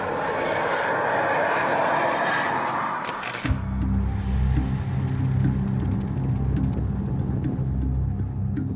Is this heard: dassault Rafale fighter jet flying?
yes